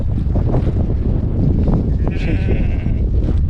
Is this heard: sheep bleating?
yes